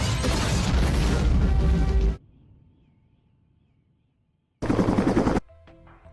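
Loud bursts of machine-gun fire and explosions from the video game Stranglehold, first a dense two-second barrage, then a quiet lull with faint debris, then a second short violent burst followed by scattered ringing tails.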